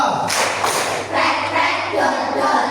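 Schoolchildren in a classroom clap on command, a couple of sharp bursts of hand claps followed by a short pause, with children's voices murmuring around them.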